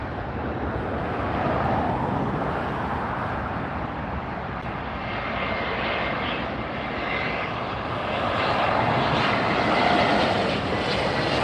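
A JetBlue airliner in the 2023 Mosaic livery passing close at LAX airport, its jet engines giving a loud, steady broadband roar that swells slightly toward the end, with light wind noise and no talk.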